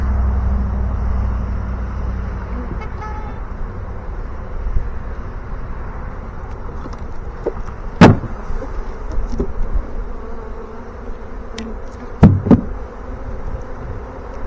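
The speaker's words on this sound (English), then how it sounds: "A lot of bees in that box." A low, continuous buzz of a honey bee swarm in a hive box fills the air, with a few sharp knocks and bumps against the wooden box cutting through.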